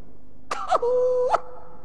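A voice imitates an elderly man's cough during a sermon: a raspy hacking burst that stretches into a drawn-out, groaning vocal tone.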